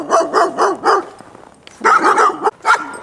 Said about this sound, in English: And those are their idiot dogs.